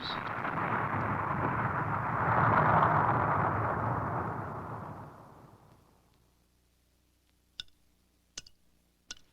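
A firecracker blast slowed down 1,200 times becomes a long, deep, loud rumbling roar that swells and then fades over several seconds, followed by a few faint, sharp ticks near the end.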